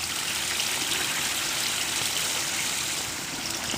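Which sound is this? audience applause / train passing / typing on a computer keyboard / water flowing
water flowing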